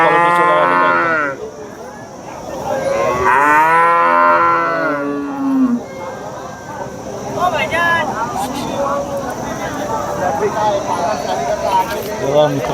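Jersey cows at a busy cattle market in Vadod, Phulambri, Chhatrapati Sambhajinagar, giving loud, long mooing calls in the first six seconds, followed by fainter lowing and crowd murmur with people talking nearby.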